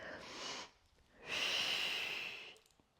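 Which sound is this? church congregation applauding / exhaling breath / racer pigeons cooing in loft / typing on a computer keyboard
exhaling breath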